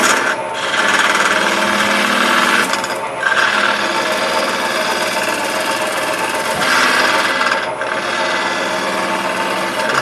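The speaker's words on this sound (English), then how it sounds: "contact the wood, and then raise the handle. And then try to ride the bevel." A wood turning tool rides the bevel against spinning wood on a lathe, giving a steady, loud scraping rasp with brief breaks and no talking.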